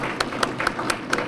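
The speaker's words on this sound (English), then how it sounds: "round of applause" Audience applause at a volunteer awards ceremony, heard as a short run of steady, rhythmic claps with sharp regular hits over a busy room murmur.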